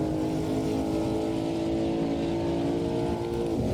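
A Porsche Panamera Turbo with four-wheel drive, 550 horsepower and over two tons of weight, driving at Silverstone National Circuit, giving a steady, loud, close engine drone with a constant pitch throughout.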